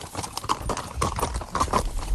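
Horse hooves clip-clop at a steady walking rhythm on a horseback ride through the garrigue scrubland near Cabrières, close and distinct with a few sharper ringing strikes.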